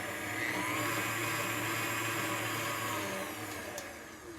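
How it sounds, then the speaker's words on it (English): A stand mixer whirs steadily as it mixes gluten-free pumpkin muffin batter, a close, loud motor drone with a high whine that holds evenly and eases slightly at the end, no talking over it. "mix it one more time because sometimes, you know, the very bottom of the bowl of the mixer, things need a little more mixing"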